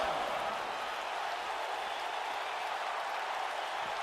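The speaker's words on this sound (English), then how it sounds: "The crowd chanting along" Steady crowd noise from spectators at a tag-team pro wrestling show, a constant, fairly faint roar of many voices chanting together from the arena, without a break.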